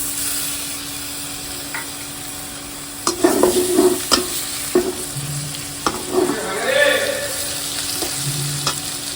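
Ground ginger, garlic and cumin paste sizzle in hot oil in a pan, with a run of loud scraping stirring strokes and clinks of a spatula starting a few seconds in, close and without talk.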